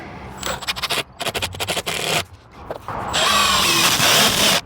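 A power drill drives screws into a fluted wall panel, with short stuttering bursts, a brief pause, then a longer, steadier whirr close by.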